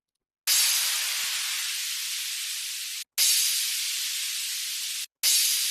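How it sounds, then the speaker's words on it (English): A hissy white-noise sound effect in a music production track: three long, loud bursts of bright hiss, each fading slightly before a brief gap, heard alone. "it's a bit loud and hissy up there"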